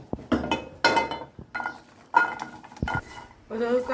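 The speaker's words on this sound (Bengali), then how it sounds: "এখন আমি কাটল বিচি গুনটা কুলাত বাজিলাম" Jackfruit seeds roasting in a pan, stirred with repeated metallic scrapes and clinks of the utensil against the pan in irregular bursts, close and fairly loud, with a faint sizzle beneath.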